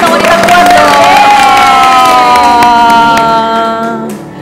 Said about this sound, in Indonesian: tepuk tangan buat wanita-wanita kuat dong.